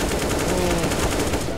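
Rapid gunfire from a Counter-Strike match crackles in a fast rhythmic burst of close, loud shots that runs without a break and has no talk over it.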